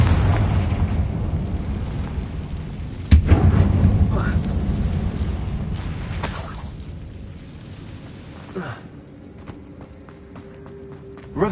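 A Confringo fire spell explodes inside a closed, tomb-like mine in Hogwarts Legacy, one loud sudden boom followed by a long rumbling decay that fades over several seconds.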